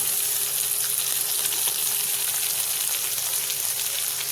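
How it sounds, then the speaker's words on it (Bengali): Chopped tomato added to lightly fried onions in hot oil, producing a steady, even frying sizzle that carries on without a break. "এখানে দেখুন পেঁয়াজ হালকা ভাজা হয়ে গেছে। দিয়ে দিচ্ছি টমেটোটা,"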